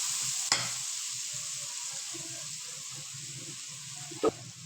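Garlic ginger paste sizzling in hot oil in a pan, a steady close crackle that runs throughout, broken by two brief louder knocks of a spoon, no talking.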